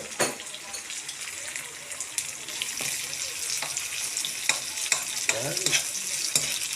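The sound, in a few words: sautéing tomatoes with onion and ginger in a pan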